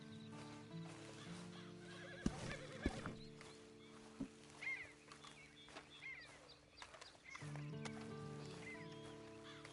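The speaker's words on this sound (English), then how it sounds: "Then you better get on this horse." Horse in Red Dead Redemption 2 Online whinnies and snorts, with sparse hoof clip-clops and a couple of sharp knocks over a steady low game ambience; occasional faint bird calls.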